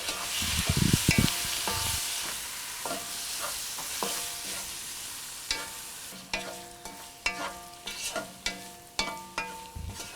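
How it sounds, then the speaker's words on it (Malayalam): Cleaned prawns sauté with tomato in a pan, a close soft sizzle running throughout under repeated spatula stirs, with a rapid series of sharp scraping clacks toward the end. "ഇതിലോട്ട് നമ്മൾ ക്ലീൻ ചെയ്ത് വെച്ചിരിക്കുന്ന ചെമ്മീനിട്ട് 3 മിനിറ്റ് ഇതുപോലെ വഴറ്റുക."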